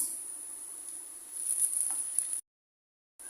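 Garlic and ginger paste frying with softened onions in a pan for a small-shrimp bhuna, giving a steady close sizzle that cuts off abruptly near the end.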